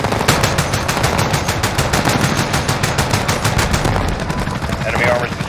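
Aircraft gun run in Call of Duty: Modern Warfare (2019): a loud, sustained stream of rapid cannon fire with dense rhythmic pulses, continuous across the stretch, with radio-style voices over it.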